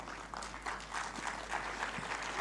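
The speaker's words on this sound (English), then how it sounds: "give him a standing ovation for this session" Audience applause as a crowd stands for an ovation at an event session, quiet and somewhat distant clapping with a steady rhythm under a low hum.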